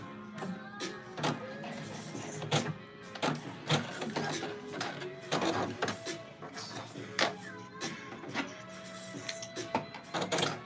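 A sewing machine with a worn needle runs at length while hemming trousers, giving a busy, rattling mechanical whir full of rapid ticking clicks. The sound is close and uneven.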